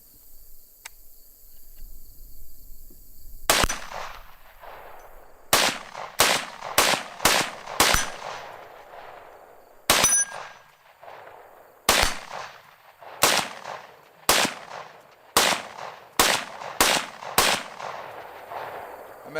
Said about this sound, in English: So let's just do some regular shooting here.